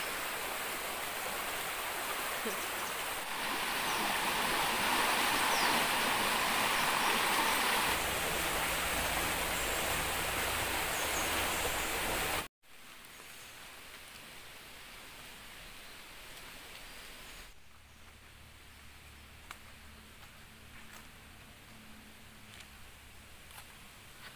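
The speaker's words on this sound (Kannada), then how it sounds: "ಜರಿಗುಡ್ಡೆ ಮಳೆ ಅಂತ ಹೇಳ್ತಾರಲ್ಲ ಹಾಗೆ, ಅಂತ ಒಂದು ಮಳೆ ಹೇಗೆಲ್ಲ ಉಂಟು ನೋಡಿ" Heavy rain pouring down as a dense, steady roar, louder in the first half and then easing to a softer continuous hiss after a brief break, with no voices.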